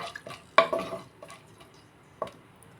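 Chana dal and garlic tumble into a pan on a weakly burning stove, giving a few sharp clattering rattles and light scrapes, one louder clink early and another shortly after, fairly close and fairly quiet.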